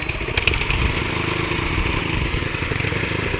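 A rice harvesting machine's engine runs steadily outdoors, a continuous mid-pitched mechanical drone with a rattling rhythm, fairly loud and close, with no speech over it.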